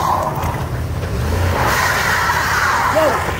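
Dodge Durango AWD tires spinning and skidding on pavement, a loud continuous engine roar with rising squeal near the end, close by.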